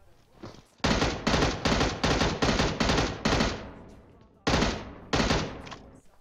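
Rapid bursts of automatic gunfire from an M416 assault rifle in the PUBG Mobile battle royale game, several loud close strings of shots in quick succession, a pause, then two more bursts.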